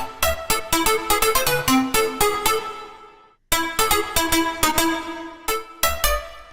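Metallic synth pluck for big room dance music, a run of bright, sharp notes in a quick rhythmic pattern, pausing briefly midway before the sequence repeats, loud and alone.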